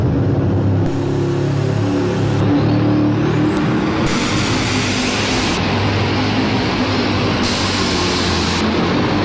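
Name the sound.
super stock tractor engine during tractor pull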